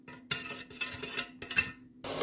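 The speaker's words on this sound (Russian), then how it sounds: "Все перемешиваем до растворения сахара." A spoon scrapes and clinks against a bowl while stirring syrup, water, sugar and starch into a sauce, in a few bursts of metallic scraping separated by brief pauses.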